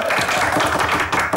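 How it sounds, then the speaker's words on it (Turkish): Studio audience applause at a Turkish comedy sketch show, a dense burst of clapping that fills the short moment with no talk over it. "alkış."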